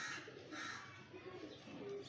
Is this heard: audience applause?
no